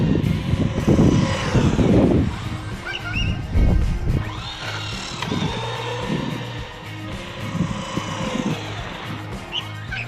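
A Traxxas Hoss RC truck running on a 2S LiPo battery drives nearby, its electric motor whining and rising and falling in pitch. Tires crunch and rumble over the ground while the motor speeds up and slows down throughout.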